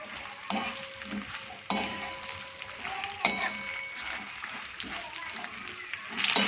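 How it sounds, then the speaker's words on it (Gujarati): Okra sautés in plenty of oil in a kadai for stuffed bhinda shaak: a moderate sizzle with occasional stirring scrapes runs under a person talking. "આવી બધા ભીંડા નાખી દઈએ અંદર, અને તેલમાં પહેલાં આપણે એને સાતળી લઈએ"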